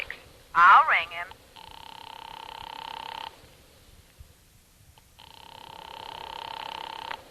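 An old-style telephone rings in two long buzzing bursts separated by a pause, heard fairly close; a brief voice-like sound comes just before the first ring.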